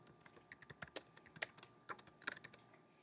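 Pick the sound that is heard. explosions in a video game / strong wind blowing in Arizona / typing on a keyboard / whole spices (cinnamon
typing on a keyboard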